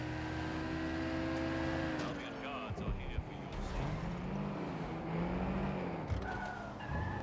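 Car driven in Watch Dogs Legion through the streets of London, engine droning steadily, then tires skidding and squealing as it swerves, with continuous motor hum and a voice talking over it.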